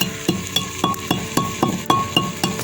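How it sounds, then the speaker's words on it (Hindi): Whole cinnamon, coriander, cumin, cloves and black pepper are pounded coarsely in a village kitchen for garam masala, giving a steady rhythm of sharp, hard thuds with faint clinks, about three strikes per second, close by and alone. "गरम मसाला है इसको कूट लेते हैं। इसमें थी दालचीनी, धनिया और ज़ीरा, लौंग और काली मिर्च।"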